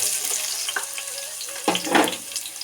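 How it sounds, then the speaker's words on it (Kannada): Chopped onions fry in a pan with cinnamon, cloves and bay leaf for chicken methi kurma, giving a soft steady sizzle with a brief louder stir or hiss near the end. "ಇದು ಕೆಂಪು ಬಣ್ಣಕ್ಕೆ ತಿರುಗೋ ತನಕ ಚೆನ್ನಾಗಿ ಫ್ರೈ ಮಾಡ್ಕೊಳ್ಳಿ ಫ್ರೆಂಡ್ಸ್"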